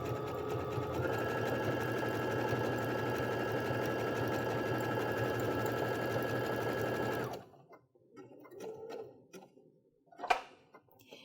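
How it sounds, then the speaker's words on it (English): Baby Lock sewing machine running a satin stitch, a steady close whirring hum for about seven seconds that stops abruptly, followed by faint handling noises and a brief click. "And I've already set my machine up for a satin stitch."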